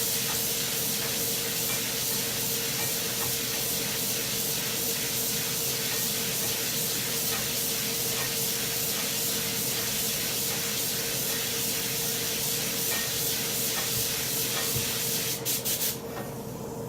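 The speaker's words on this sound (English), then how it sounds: "just getting a nice tack coat on there" A spray gun steadily hisses out a light tack coat of Tamco HC-9500 clear coat in a paint booth, a continuous loud airy spray that runs unbroken before cutting off near the end.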